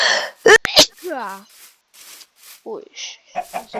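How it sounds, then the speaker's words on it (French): A person gives a single sharp, close sneeze amid a gaming chat, followed by brief talking. "Comme t'as éternué."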